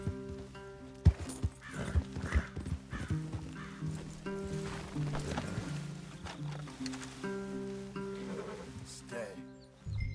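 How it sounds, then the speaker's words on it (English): Horses in the video game Red Dead Redemption 2 snort, whinny and clop in several bursts, with game dialogue and background score running throughout. "Leave the horses in the trees there."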